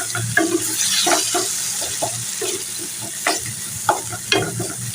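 Softened potatoes fry in a pan with a loud, continuous close sizzle, punctuated by rhythmic scraping and knocking of a stirring utensil, no speech over it.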